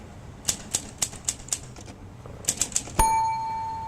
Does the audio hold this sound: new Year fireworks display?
no